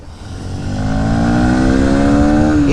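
A Bajaj Pulsar NS160 motorcycle engine revs up steadily, its pitch climbing over nearly three seconds into a loud, sustained high-rpm roar close by.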